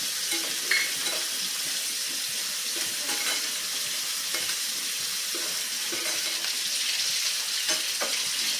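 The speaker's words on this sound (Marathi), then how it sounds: "त्यानंतर एक उकडून घेतलेला बटाट्याच्या फोडी घालूयात" Boiled potato pieces tossed into a hot pan for a dry potato sabzi, a steady close sizzle and frying hiss with faint stirring clinks throughout, no talking.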